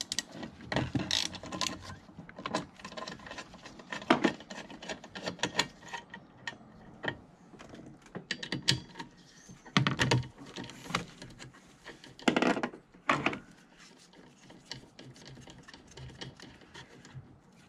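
Socket ratchet with a 13 mm socket working the windshield cowl retaining nuts on a BMW E60 M5, giving fast, continuous clicking ratchet strokes close by with short pauses, fairly quiet and alone.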